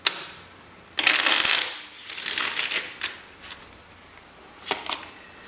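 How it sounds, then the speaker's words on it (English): A deck of tarot cards is riffled and shuffled in several quick, crisp bursts of close fluttering card noise, separated by short pauses and lighter taps, with no talking. "One more shuffle, please."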